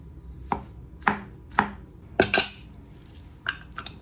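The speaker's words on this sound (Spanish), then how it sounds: "Y también cortamos el diente de ajo." A knife chopping a garlic clove on a cutting board, about six sharp, separate knocks spaced roughly half a second apart, then a quick double chop and a few lighter taps, close and clear with no talking.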